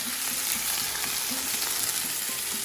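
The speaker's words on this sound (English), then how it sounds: "I really want it to get some color, fry up nicely. So I'm gonna do a little bit at a time." Chicken pieces for Thai peanut chicken frying in a pan, a close, steady hiss and sizzle with faint crackles, heard alone.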